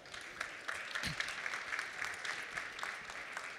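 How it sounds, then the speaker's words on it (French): A fairly faint but steady round of audience applause at a conference session, with scattered individual claps and no talking. "On peut l'applaudir."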